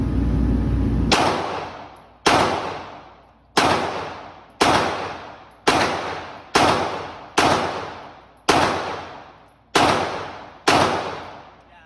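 A CZ rifle fitted with an Apex trigger fires ten loud, sharp reports at a quick, even pace about a second apart, each ringing out in a long decaying tail, after a short steady rumble at the start.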